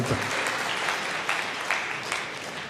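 A church congregation breaks into loud applause during a sermon, a dense, sustained wash of clapping from many hands with a few sharper swells, heard alone without talk.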